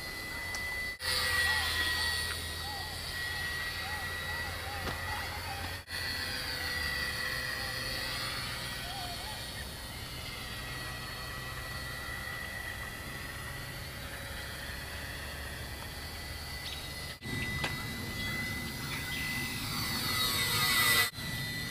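A Flyzone P-38 Lightning radio-controlled model airplane flies overhead, its thin electric motor whine holding steady and faint with the distance, rising briefly near the end, while someone talks over it.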